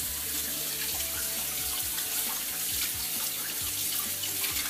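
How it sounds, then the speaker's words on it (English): Kitchen tap running steadily while raw meat is rinsed under it, a continuous close splashing stream with no talk. "always wash the meat. So, do a nice, nice little wash here."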